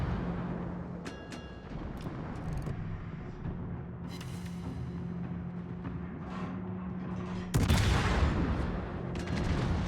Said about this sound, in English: we should probably do some more blind firing